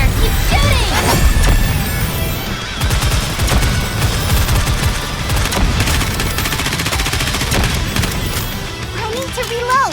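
Rapid automatic gunfire and explosive impacts rattle continuously in the mobile shooter Nikke: Goddess of Victory, loud and dense across the whole stretch, with game character voices mixed in.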